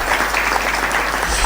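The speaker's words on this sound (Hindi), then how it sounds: "आपकी तालियां कमजोर हैं।" An audience claps continuously in a dense, loud burst of applause, many hands together with no gaps and no talk over it.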